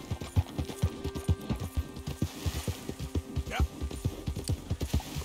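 Steady clip-clop of horse hooves at a gallop in a Red Dead Redemption 2 game world, loud and rhythmic, with a brief whinny partway through and a speaking voice over the hoofbeats.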